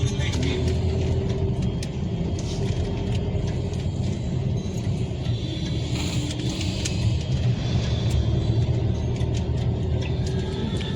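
Highway traffic near Oni bridge, with vehicles heading from Pune to Mumbai, makes a continuous low engine rumble and passing road noise and includes occasional mechanical rattles, steady throughout without clear talk.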